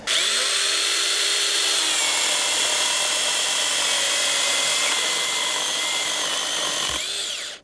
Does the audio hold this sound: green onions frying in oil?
no